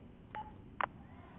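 A phone dialing a call in the video game GTA V: two short electronic keypad tones, the second louder, over a low steady background hum.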